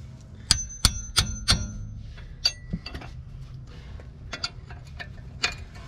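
Metal tools clink and clang while 21mm caliper bolts are removed from a Jeep Wrangler's front brake: a few sharp ringing strikes, then scattered lighter ticks and clicks, close and clear, with no talking.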